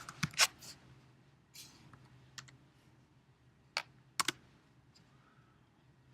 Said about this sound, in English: if I just click the enter key, I'm done typing